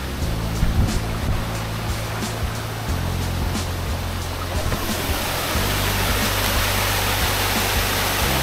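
Lubong Nangoloan waterfall at its second level in San Felipe, Zambales, roars as a steady, loud broadband rush of falling water that fills the scene throughout with no voices.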